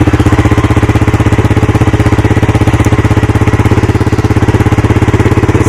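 A 1985 Honda ATC250SX three-wheeler engine runs after a year in storage, a loud, close, steady rapid single-cylinder pulse throughout with no talk.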